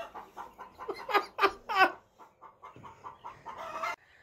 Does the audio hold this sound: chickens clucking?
yes